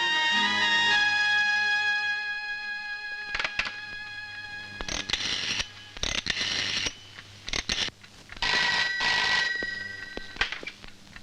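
An old desk telephone rings at a police station in a Malayalam film scene, a bright, loud bell sounding in repeated bursts with short pauses between them and no talk.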